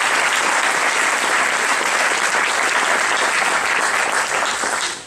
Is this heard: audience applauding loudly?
yes